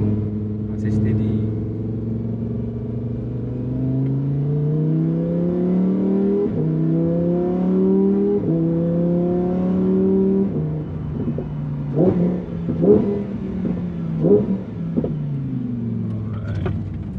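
Lamborghini Huracan Performante engine revving through its exhaust: a loud, smooth rise in pitch swept up several times, then the revs drop and sharp exhaust pops and crackles burst out as it settles back to a low idle.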